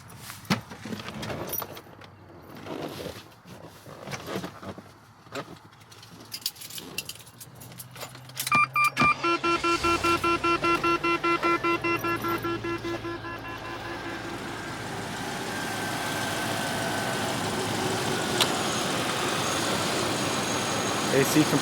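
Keys jingle and clatter, then a 2001 Range Rover P38's engine cranks with rapid chugging and catches, settling into a steady, fairly loud idle.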